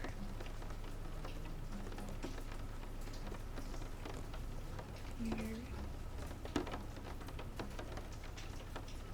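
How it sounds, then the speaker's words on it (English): Rain falls outside in a steady, soft patter with fine drips, quiet and continuous throughout, a faint low hum underneath. "You can't tell, but it's raining."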